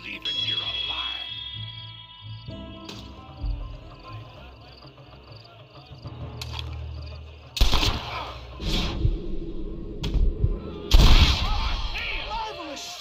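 Gunshots ring out in a Western shootout in Red Dead Redemption, with loud cracks from about 7.5 seconds on that follow quieter ambience and voices, the heaviest blasts coming near 11 seconds.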